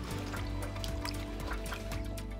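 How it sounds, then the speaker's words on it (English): A paint brush rinsed in a bucket of water after applying waterproofing roof paint, giving a close, continuous sloshing and trickling of water with repeated small splashes and drips. "Just give the brush a good rinse in a bucket of water."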